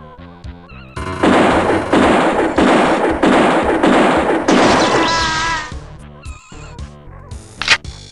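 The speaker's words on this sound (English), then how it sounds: "I say we try the assault rifle" Assault rifle fire aimed at a cyborg enforcer in System Shock, several seconds of loud, continuous rapid shots bracketed by game effect tones and electronic blips, with no talking.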